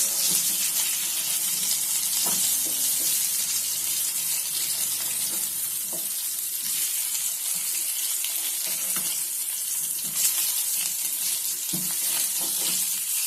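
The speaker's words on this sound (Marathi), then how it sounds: "दुसऱ्या साईडने आपण याला फ्राय करून घेऊया।" Seer fish (surmai) fries in a pan with a continuous, fairly loud crackling sizzle, dotted with occasional soft clicks and knocks from handling.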